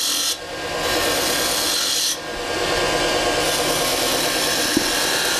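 A hand scraper works a spinning wood blank on a lathe, turning a cove with crisp corners. It makes a continuous, loud, steady rasping scrape that fades briefly twice, with a small tap near the end.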